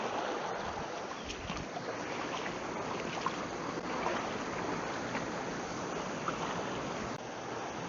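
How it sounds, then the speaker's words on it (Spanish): A river rushes near waterfalls, giving a steady, broad wash of flowing water that stays even throughout at moderate distance. "vamos a meternos para aquellas cascadas"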